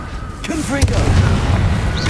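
Fiery Confringo spell explosion in the Hogwarts Legacy video game, a sharp cracking burst with a heavy rumbling boom trailing after it, heard close and loud alongside a spoken incantation.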